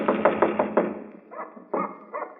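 Knuckles rap on a bolted bedroom door: a quick run of five firm knocks, then a pause and a few softer, muffled knocks, close and dry in an otherwise quiet room.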